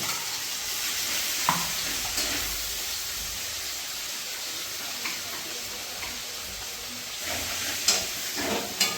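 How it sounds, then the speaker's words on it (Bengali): Spice paste and fried onions sizzle steadily in a pan as the mixture is stirred, with a few scraping clinks of the spoon standing out, close and continuous, while cooking a Bengali-style ritha fish dish. "মশলাটা ভালো করে এবার কষাতে হবে যতক্ষণ না গন্ধ বেরোয়"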